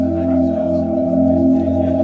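A Yamaha MODX synthesizer holds a sustained, loud, steady tone with rich layered harmonics while the mod wheel is worked, playing alone and unbroken for a couple of seconds.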